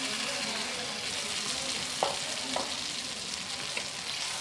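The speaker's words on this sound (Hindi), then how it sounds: "अच्छी तरह इसको भी भून लूँगी।" Pressure-cooked mutton head pieces fry and sizzle in spices in a pan, giving a steady close hiss with a few brief stirring scrapes.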